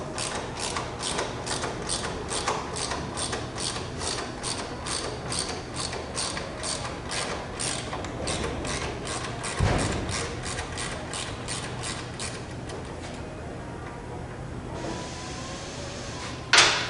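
Rapid ratchet clicking from a wrench backing out the floorboard bracket bolts on a motorcycle, a steady close run of clicks for most of the stretch with a brief clunk partway through and a sharper knock at the end.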